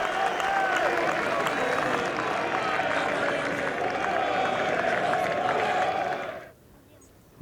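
A large Ryder Cup golf crowd roars and applauds in a dense, sustained wave of cheering and clapping that cuts off abruptly near the end, leaving near silence.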